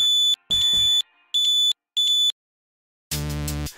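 A homemade clothespin security alarm buzzer sounds in loud, piercing electronic beeps: four bursts of even length separated by short gaps, then a final harsher, louder buzz, with no one speaking.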